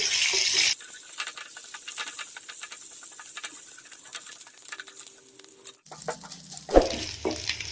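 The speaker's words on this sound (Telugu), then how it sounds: "పోపుని ఫ్రై చేసుకోవాలి" Mustard seeds, cumin, curry leaves and chana dal sizzle and crackle in hot oil, a steady frying hiss with a few stirring clinks and a soft bump near the end.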